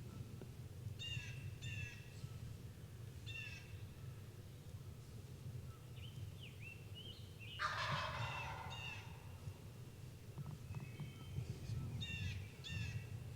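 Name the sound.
wild turkey gobbler gobbling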